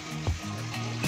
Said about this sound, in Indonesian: ini aku sedang membilas-bilas pakaian aku